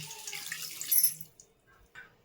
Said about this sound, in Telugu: ఇందులో మనం నీళ్ళు వేసుకుందాం